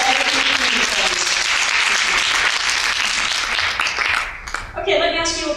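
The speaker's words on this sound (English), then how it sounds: "round of applause for the guys at the back" A live seminar audience in Orlando, Florida applauds loudly and continuously, a dense wash of clapping and cheering that fades near the end as other sounds come in.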